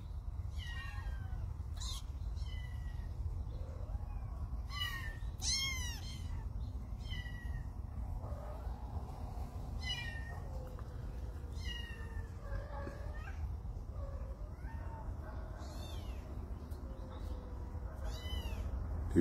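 A pet cat meows repeatedly in short calls spread across the stretch, near and fairly clear, over a steady low background hum with no talking.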